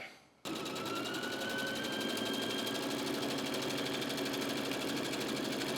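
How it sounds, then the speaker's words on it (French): A sewing machine stitches down a folded fabric pocket, starting abruptly after a brief pause and running as a loud, steady, rapid needle rattle until the end without talk. "Et on va venir lui mettre un petit coup de couture"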